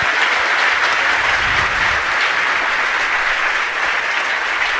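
A large gathering at a Jain religious discourse with Praman Sagar Ji Maharaj breaks into loud, dense applause that stays full and unbroken throughout, a continuous wash of clapping with no pauses.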